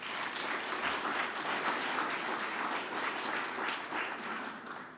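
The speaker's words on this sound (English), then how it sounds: "Give them a big round of applause." An audience at a 2022 Grand National Turkey Callers Hall of Fame induction ceremony applauds steadily, a dense wash of clapping that holds for several seconds before beginning to taper off.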